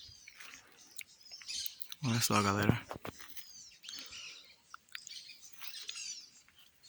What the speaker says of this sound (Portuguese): E ouvindo o som do passarinho cantando.